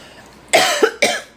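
Two sharp, close coughs, one right after the other, with a short pause between them.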